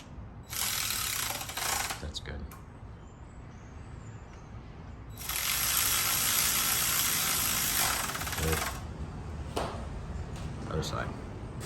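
A ratchet runs down the rocker arm bolts on a 5.3L LY5 LS engine in two long, loud bursts of fast, buzzing clicks, close by, with people talking in between and over it.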